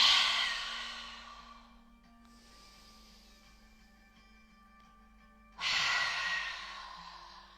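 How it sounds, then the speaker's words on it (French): Long breathy exhales through the mouth during yoga breathing practice, one fading at the start and another loud, close whoosh later, with a soft steady hum in between. "On va faire une inspire par le nez, expire par la bouche"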